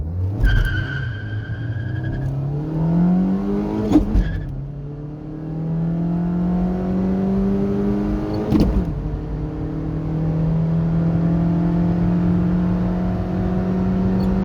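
2007 Dacia Logan MCV 1.6 16V with five-speed manual gearbox on a 0-100 km/h run, engine revving up loudly through gears with two sharp shift breaks, steady strong drone from inside the car.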